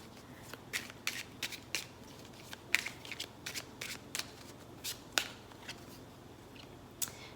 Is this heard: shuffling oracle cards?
yes